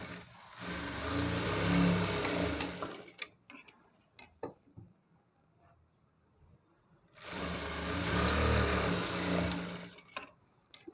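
A sewing machine stitches the seams of a blouse in two loud, steady runs, with a quiet pause of small handling clicks between them.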